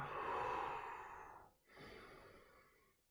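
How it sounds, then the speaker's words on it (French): Deep, steady breathing of a person during a guided home exercise session, a long drawn-out exhale followed by a brief pause and another slow breath, close and fairly quiet with no talking. "Et commencez à respirer."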